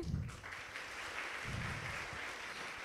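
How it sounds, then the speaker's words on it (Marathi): An audience at a Guru Purnima programme in an institute hall claps loudly together, a dense, sustained wave of applause lasting throughout. "एकदा जोरदार टाळ्या"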